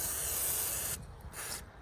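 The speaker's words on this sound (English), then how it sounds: "WD-40." WD-40 aerosol sprayed onto a mustang's mane to loosen cockleburrs: a loud continuous hiss for about a second, then two shorter spray bursts after a brief pause, close up with no talking.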